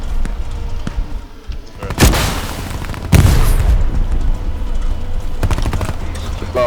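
Heavy anti-tank explosions slam into a Tiger tank in the Hell Let Loose war game, with two loud close booms about a second apart and then a sharper blast near the end, over rumbling battle noise.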